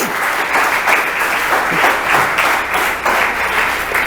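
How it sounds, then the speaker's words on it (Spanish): An audience at a Spanish-language church sermon bursts into big applause, loud sustained clapping with rhythmic pulses running for about four seconds, no speech over it. "Denle un aplauso, pero grande."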